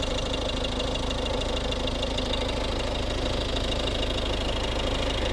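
A 2011 Volvo S40 1.6 D2 diesel engine idling close up, a steady low rumble with a fast rhythmic knock that stays constant throughout.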